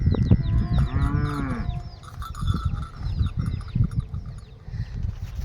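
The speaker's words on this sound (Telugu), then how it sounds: "చూడండి ఆవు" Dairy-farm cattle, quality cows sold for delivery to Vijayawada, moo loudly and nearby, with one long drawn-out low call in the first two seconds followed by continuous farmyard bustle and shuffling.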